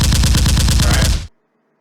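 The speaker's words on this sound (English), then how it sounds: "And not just gunshots, I mean like machine guns." Machine gun fire played as a sound effect during a horror tabletop role-playing adventure: a loud, dense burst of rapid, evenly spaced shots lasting just over a second, then stopping sharply with only a faint tail.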